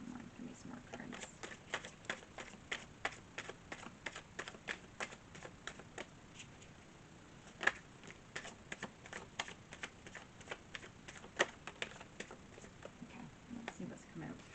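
Tarot cards are shuffled and handled, giving a quiet series of crisp flicking and tapping clicks in an irregular rhythm, close by with faint room noise.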